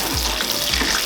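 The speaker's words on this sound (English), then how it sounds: "don't kind of like mix your meatball all the time, just shake a little bit of the frying pan like that" Meatballs fry in a pan with a loud, dense sizzle and crackle, and the pan is shaken briefly. The sound is close and continuous, with no speech.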